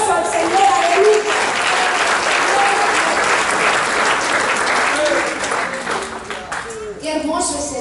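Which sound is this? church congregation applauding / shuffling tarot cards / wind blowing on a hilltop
church congregation applauding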